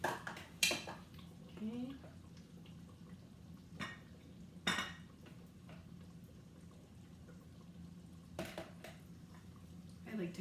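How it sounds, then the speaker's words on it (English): A spoon scoops cooked rice into a bowl with a few sharp clinks and scrapes against the dish, spaced between quiet moments, while a person talks briefly. "First, I'm gonna put a little rice in the bowl."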